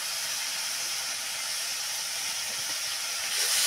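Fish curry masala being stir-fried with a little water, an even, loud hissing sizzle throughout, with no stirring clatter standing out.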